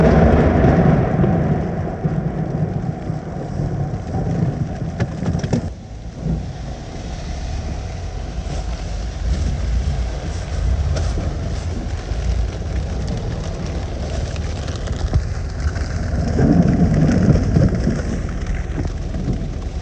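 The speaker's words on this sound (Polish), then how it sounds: "Na samą końcówkę ulewa burza." Heavy downpour during a thunderstorm in South America, rain pounding steadily with wind buffeting the microphone, constant and loud throughout with a slight dip mid-way and a surge near the end; no talking.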